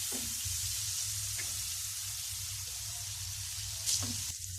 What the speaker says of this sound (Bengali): চিংড়ি মাছটা একটু সুন্দর করে ভাজা হবে